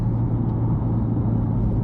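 A Subaru hatchback with a boxer engine, fitted with a full body kit, pulls away gently. Inside the cabin a low, steady engine rumble drones evenly, with no voices.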